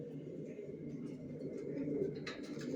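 Young racer pigeons coo with a low, soft, continuous burble, close and steady, with faint voices in the background.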